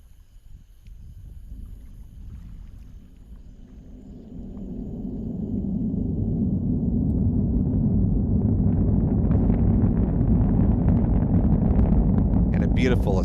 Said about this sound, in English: Liftoff of the Falcon 9 rocket on the Starlink 8-5 mission, and the Falcon 9 has cleared the tower.